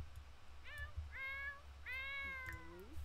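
A cat meowing in The Sims 4 life simulation game, three or four drawn-out meows in a row over a low background hum, fairly faint.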